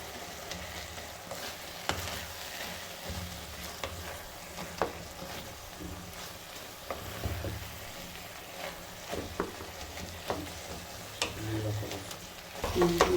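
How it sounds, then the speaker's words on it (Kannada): Tomatoes and chili powder fry in a pan with a steady low sizzle, while repeated clinks and scrapes of stirring sound close up throughout, with no talk. "ಇವಾಗ ಸ್ವಲ್ಪ ಫ್ರೈ ಮಾಡ್ಕೊಂಡಲ್ವ,"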